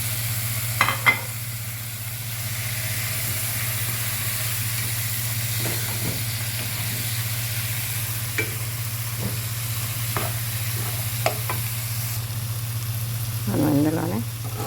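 Chicken frying in a green chilli masala with lime juice, a steady close sizzle and hiss under occasional spoon scrapes and stirring knocks, with a louder stirring burst near the end.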